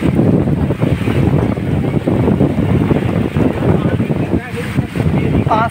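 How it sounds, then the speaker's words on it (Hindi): Heavy rain pours down during a ride in an auto rickshaw. A loud, constant roar of rain and wind mixes with the rumble of the moving vehicle, and voices briefly break through. "इतना ज़्यादा बारिश हो रही है और हम बारिश में भीगते हुए जा रहे हैं।"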